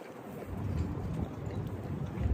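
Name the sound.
wind blowing on microphone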